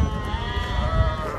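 Sheep bleat loudly and close at a busy livestock market in Buraydah, a continuous wavering cry over a low crowd murmur.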